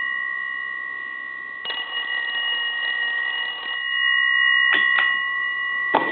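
Close by, a PTT Holland rotary telephone bell rings in a sustained burst for about two seconds, then gives a few short, sharp strikes that trail off.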